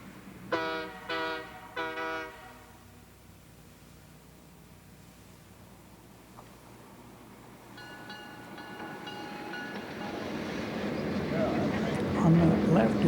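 A Canadian Pacific train rolls into Field station on the Laggan Sub, its cars smoking heavily. Two short horn blasts sound early, followed by a rising rumble and screeching wheel noise as the train draws near and grows louder.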